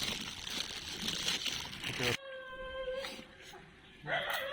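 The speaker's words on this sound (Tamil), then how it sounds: "நாய் வேற கொலைக்குது." A dog whimpers and gives a drawn-out, wavering howl outdoors beside a lake during a fishing outing near Sembarabakkam, following a stretch of noisy chatter and ending with another burst of background voices.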